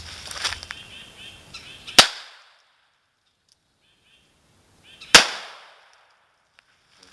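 A .442 Webley revolver fires full-power loads into wood: two loud, sharp cracks about three seconds apart, each ringing out and decaying into near silence, with faint background noise before the first.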